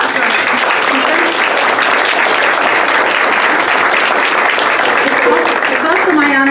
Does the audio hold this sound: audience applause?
yes